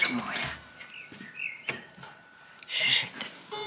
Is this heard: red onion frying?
no